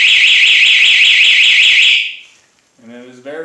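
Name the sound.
Kawasaki Z125 Pro motorcycle alarm system warning siren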